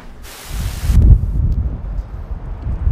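Wind blows outdoors in hard, loud gusts buffeting the microphone with deep rumbling bursts, after a brief hiss near the start.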